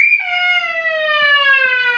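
A police siren wails in one long, loud, steady tone that slides slowly downward, heard alone and close with no talking over it.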